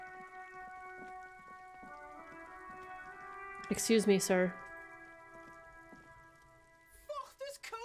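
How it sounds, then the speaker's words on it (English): Rain falls in the video game Disco Elysium, a soft, steady patter beneath sustained musical tones, with a voice speaking briefly partway through and again near the end. "Oh, it's raining."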